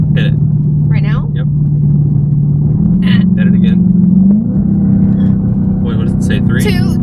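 Dodge Hellcat V8 held at a steady high idle, then revved up on the throttle and let off, the exhaust loud and close throughout, with people talking over the engine.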